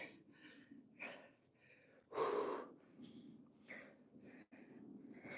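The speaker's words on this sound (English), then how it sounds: "heavy breathing." Heavy, ragged breathing close up after 20 burpees, a series of deep inhales and exhales with one louder gasping breath in the middle.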